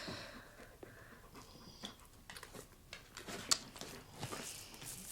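A dog pants indoors in quick, soft, breathy bursts close by, with a few snorts and mouth sounds mixed in and no talking.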